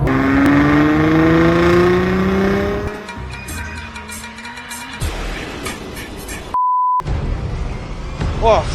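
A Porsche Cayenne E3 SUV fitted with an Armaspeed intake, IPE valved exhaust and a power upgrade accelerates hard at full throttle, its engine note climbing through gear shifts. A brief electronic beep cuts in near the end, and voices talk over it.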